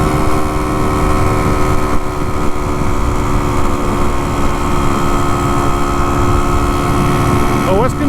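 A vintage Can-Am 250 TNT two-stroke motorcycle engine runs continuously in a loud, steady drone, with a rough buzzing tone that holds level throughout.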